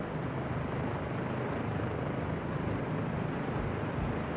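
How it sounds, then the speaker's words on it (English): A helicopter in Call of Duty: Modern Warfare II, a broad, constant rotor-and-engine roar with a faint chopping pulse. It holds at a steady, fairly loud level throughout, and no one speaks over it. "I hear a chopper, buddy."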